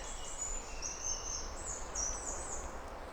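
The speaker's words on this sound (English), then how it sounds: "Just listening to the birdsong," Birdsong in a woodland at dawn: faint, high chirping calls repeat over a low, steady rumble of distant traffic.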